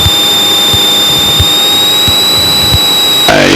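Cessna 185 propeller engine running at 2,500 RPM heard from inside the cockpit, a loud, steady drone with a high whine and a faint rhythmic low pulse throughout.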